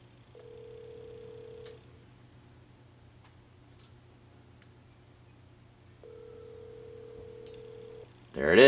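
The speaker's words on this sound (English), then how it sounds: "Let's dial my apartment phone number" A landline telephone line plays two long steady tones separated by a pause, with faint clicks between, quiet and electronic, ending in a sudden loud burst as a Wheelock PS-15A telephone strobe test begins.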